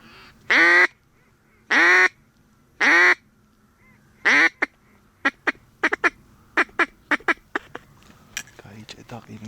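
Ducks on Jandari Lake in Georgia during a duck hunt give three loud, drawn-out nasal quacks, then a rapid run of sharper, shorter calls and clicks that thin out toward the end.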